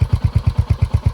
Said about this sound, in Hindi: ये इसकी आइडल आवाज़ है,